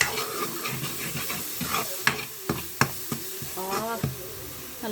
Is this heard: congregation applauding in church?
no